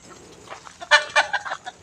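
A chicken clucks in a run of close, short calls on temple grounds, fairly loud over a quiet outdoor background.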